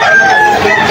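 A rooster crows loudly and close by at a chicken market in Bocaue, Bulacan, a single sustained call lasting about a second.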